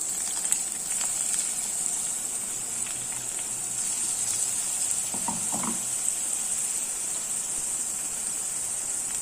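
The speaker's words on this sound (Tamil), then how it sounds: "வெங்காயம் பூண்டு பேஸ்ட்டு இதில் சேர்த்துறேன்." Onion and garlic paste frying in a pan, a continuous close hiss and sizzle with a few soft stirring knocks partway through.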